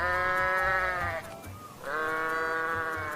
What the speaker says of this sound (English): In Armenia, there's a special animal called a wild goat that loves to climb high up in the mountains.